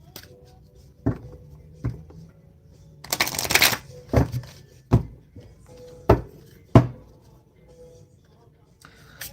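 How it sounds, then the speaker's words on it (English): Playing cards being shuffled by hand, a series of sharp riffles and snaps with one longer buzzing riffle burst, close and fairly quiet, with no talk over them. "Y'all see me shuffle."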